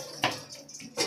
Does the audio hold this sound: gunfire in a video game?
no